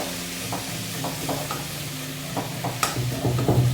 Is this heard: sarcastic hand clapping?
no